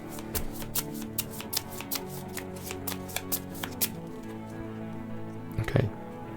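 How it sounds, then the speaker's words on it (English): A deck of game cards for a solo tabletop campaign is shuffled, giving a quick run of crisp, close riffling flicks, fairly quiet, then a soft thump at the end. "Then shuffle the explore deck."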